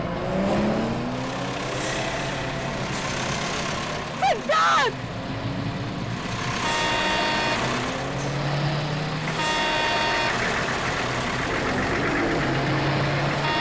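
A car engine runs continuously as the vehicle is driven, a steady moderate drone with some revving, while voices talk over it.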